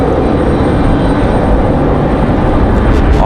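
Southwest Boeing 737 in Maryland One livery departing Raleigh-Durham airport on a windy day, producing a loud, sustained jet roar that stays strong and steady across the short stretch.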